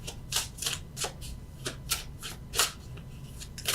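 Tarot cards shuffled and drawn by hand during a love reading, a series of crisp papery riffles and slaps arriving in uneven bursts, close and fairly quiet, with no voices.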